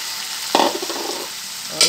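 Potatoes and peas fry over a low flame in a pan, a soft continuous sizzle broken by two sharp scraping stirs of a spoon.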